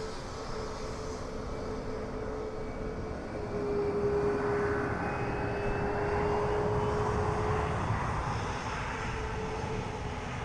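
Jet aircraft engine at Dublin Airport, a steady loud roar with a whining tone that swells midway and holds, close by, with no talk.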